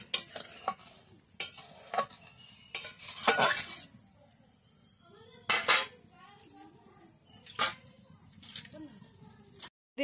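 Chana dal stir-fried in a pan: a spatula scrapes and clinks against the metal in irregular bursts, with a soft sizzle and quiet gaps between strokes, close up and without speech.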